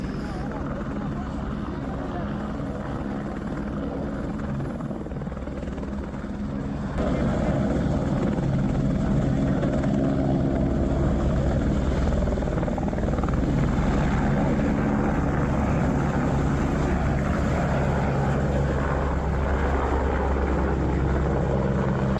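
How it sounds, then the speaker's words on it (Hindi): Helicopter at the Kedarnath helipad landing and lifting off, its rotor roar steady and loud, swelling stronger after the first few seconds, with people talking faintly underneath. "यहाँ थोड़ी देर रुककर मैंने हेलीकॉप्टर की लैंडिंग और टेक ऑफ देखा"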